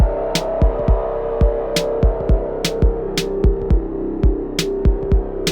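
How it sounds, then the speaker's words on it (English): Electronic music texture of busy, short drum hits, each a brief sharp transient, repeating over one sustained long note and a dark, resonant bass that slowly morphs, all steady and fairly loud. "I'm just using one very long note together with some dark resonant bass that morphs around, and together it sounds like this"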